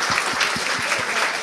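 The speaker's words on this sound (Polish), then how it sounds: "Wielkie brawa dla..." Audience applause at a Polish commemorative talk about Lunia Czechowska, a dense burst of many hands clapping briefly and fairly loud, with no voices over it.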